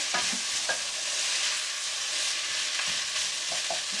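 Onions frying in a pan for French onion soup, a steady soft sizzle with a few clinks and scrapes of a spoon as they are stirred, close and alone without talk.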